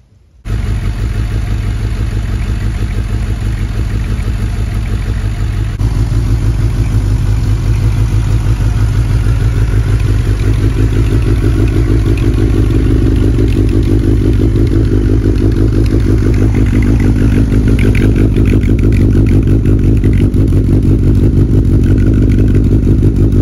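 A 2005 Suzuki GSX-R1000 K5 sport bike, unridden since 2015, starts up and settles into a steady, loud, close idle with a throaty low rumble and light mechanical clatter, running alone without talk.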